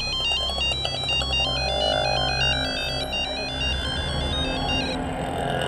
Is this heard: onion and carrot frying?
no